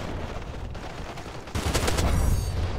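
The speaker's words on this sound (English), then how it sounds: "That's not a sniper, that's just a guy with a assault rifle" Bursts of assault rifle fire in the Crossfire X shooter game, a dense rapid volley erupting loudly halfway through after quieter background battle noise.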